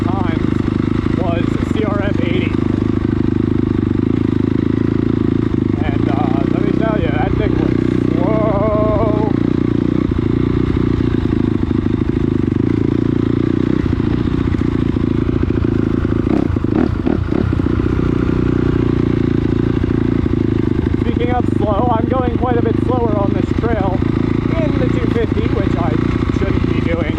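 A KLX140 and a CRF250R dirt bike riding a trail, steady loud engine drone with rattling and clattering over rough ground, while someone talks over it in bursts.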